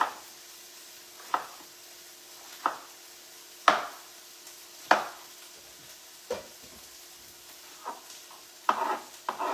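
Garlic tossed into a hot pan, a series of sharp clacking stirs and taps spaced a second or so apart over a faint sizzle, no talking.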